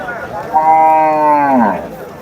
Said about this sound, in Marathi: गाय बघू शकता.